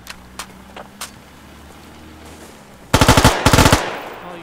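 Gunfire in the video game Squad as players shoot at a vehicle's tires: scattered faint distant shots at first, then two loud close bursts of rapid automatic fire near the end.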